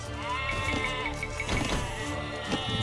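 Sheep in the video game Age of Empires II: Definitive Edition bleat repeatedly, their nasal, wavering calls fairly loud and close over a low steady background.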